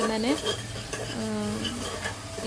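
Masala frying in a pan, a steady sizzle with stirring scrapes and metal utensil clinks against the pan, close and continuous, while faint tonal background sounds play underneath.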